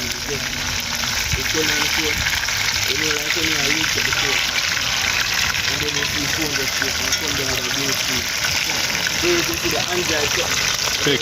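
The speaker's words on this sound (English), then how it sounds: "Fish still are frying up here." Steady crackling sizzle of fish frying in hot oil for Jamaican escovitch fish, continuous and close, with a voice talking underneath.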